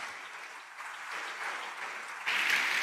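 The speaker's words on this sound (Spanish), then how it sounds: "con un fuerte aplauso recibámosle en gratitud y bienvenida" A church congregation at a Sunday service claps to welcome Pastor Walter Pérez, a steady, moderately distant round of applause that swells louder near the end.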